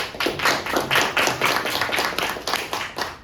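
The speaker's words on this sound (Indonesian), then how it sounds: "Boleh tepuk tangan." A small audience at a perfume product launch claps in a loose, fairly even rhythm, distinct hand claps about four per second, close and moderately loud with no talking.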